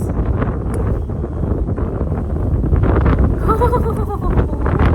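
Strong wind blowing outdoors, a loud, low rumbling buffet on the microphone that continues steadily throughout with brief faint higher tones near the end.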